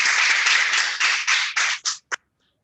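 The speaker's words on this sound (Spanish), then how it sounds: "Primero vamos a hacer un fuerte aplauso a nuestro hermano." Applause for a speaker at a Spanish-language talk, a dense wash of many hands clapping that falters into a few separate bursts and then stops.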